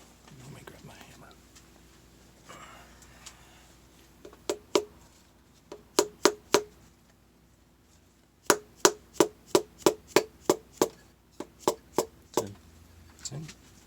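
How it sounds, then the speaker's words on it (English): Sharp metallic hammer taps drive a piston into a Mazda Miata 1.8 engine block, ringing out in quick bursts, several spaced strikes then a rapid run of about a dozen, close and distinct over a quiet background. "Let me grab my hammer."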